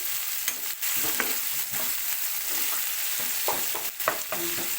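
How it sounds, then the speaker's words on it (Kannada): Chilli, cumin, tomato and curry leaves fry in an oiled pan with a steady, close sizzle, broken by occasional stirring scrapes and soft clatters of a spoon against the pan. "ಮೆಣಸು ಜೀರಿಗೆ ಟಮಾಟೆ ಕರಿಬೇವು ಕೊತ್ತಂಬರಿ ಎಲ್ಲವನ್ನು ಹಾಕ್ಕೊಂಡು ಫ್ರೈ ಮಾಡ್ತಾ ಇರ್ತೀನಿ ನೋಡಿ"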